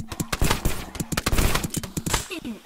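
Rapid game gunfire in Rec Room, bursts of sharp cracks in quick succession, loud and close, with a voice speaking in the middle of the shooting.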